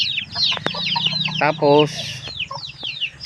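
A hen clucking close by amid chirping chicks, with a burst of rapid agitated clucks; someone speaks briefly over it.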